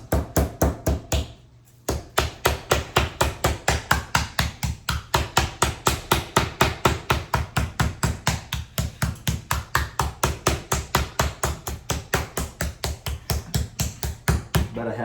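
Flat side of a meat mallet pounding a boneless pork loin flat, a long run of fast, even, close thuds after a brief opening pause, with no talk.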